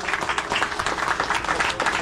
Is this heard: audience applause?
yes